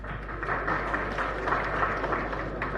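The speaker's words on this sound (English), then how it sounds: "And the good that young men are also clapping." Students clap at a question-and-answer event with a state governor, a dense continuous patter of many hands in a large hall over a low steady hum.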